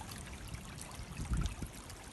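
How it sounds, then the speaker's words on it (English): A small stream running down through open fields, heard as a faint, low trickling and gurgling with a few slightly louder splashes midway, under a soft outdoor hiss. "Can you hear the water of the stream?"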